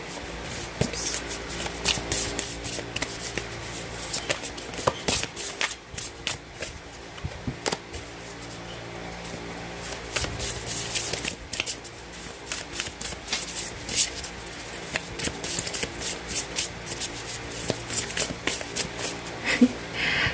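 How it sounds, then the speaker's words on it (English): Overhand shuffling of a tarot deck, the Guardian of the Night Tarot by MJ Cullinane: steady, close riffling and slapping of cards running for about twenty seconds with brief pauses, no talk over it. "overhand shuffling, as it's much easier for me to do that."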